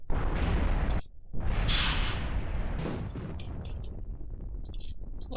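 A plane crashes into the ground in the video game Kerbal Space Program, with a loud rumbling roar broken by a brief drop, then a sharp blast and a long crackling fire rumble fading afterward.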